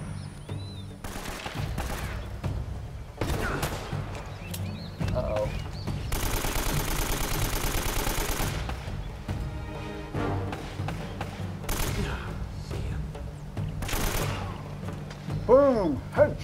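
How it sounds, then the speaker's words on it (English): Rapid bursts of gunfire from the video game Uncharted: Drake's Fortune rattle in repeated volleys, including one long sustained stretch, while a player talks and exclaims over the shooting. "Boom! Headshot! In the face!"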